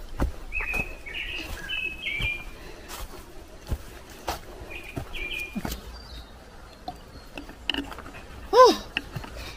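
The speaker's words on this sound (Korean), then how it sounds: "이쁘다, 새소리." Short, bright bird chirps and whistled calls come in scattered bursts outdoors on a trekking trail, fairly faint, with rustling, footsteps and a louder knock near the end.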